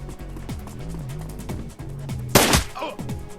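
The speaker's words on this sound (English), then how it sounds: "Why are they shooting me?" Gunshots in the turn-based video game Shadowrun Returns: one loud, sharp burst stands out amid a busy game soundscape of tonal effects and faint background voices.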